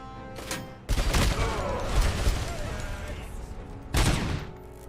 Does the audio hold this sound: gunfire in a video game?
yes